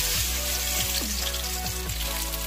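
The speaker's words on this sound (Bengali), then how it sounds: "ডিমটা ভেজে নিচ্ছি" An egg frying in oil in a kadai gives a constant crackling sizzle, close and steady, with a few faint tonal sweeps drifting through the background.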